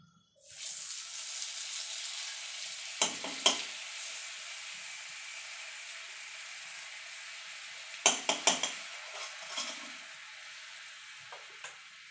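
Butter sizzling in leftover oil in a pan after paneer was fried, a steady hiss throughout with a few sharp bursts of crackle and clatter near the start and again past the middle, no voices.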